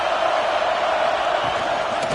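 Home crowd at a football game roaring in a steady, dense wash of cheering and shouting that holds without a break for the whole moment, loud and close.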